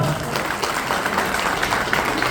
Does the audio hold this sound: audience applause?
yes